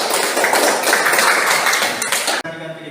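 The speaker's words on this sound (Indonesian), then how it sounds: "Oke, beri aplaus untuk Suci." A classroom of students applauds a student named Suci, a dense burst of clapping lasting a couple of seconds before it abruptly stops, leaving quiet room tone.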